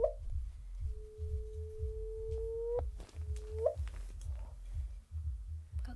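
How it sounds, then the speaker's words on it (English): Sonified recording of two black holes colliding, heard as a steady pure tone that holds, then rises in a sharp chirp, with a brief second tone after it, all over a low rhythmic pulsing throb. "This is the sound of collision of two black holes."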